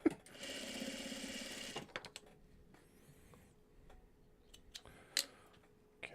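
Sewing machine stitching a quilt block runs in a steady, fast mechanical whir for under two seconds, then stops, leaving quiet handling clicks and small taps nearby.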